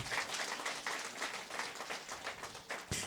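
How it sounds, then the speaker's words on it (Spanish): A church congregation at a Quechua-language festival service claps together in praise of Jesus Christ, a steady dense patter of many hands, fairly distant and continuous for a few seconds. "Dale palmas a Jesucristo."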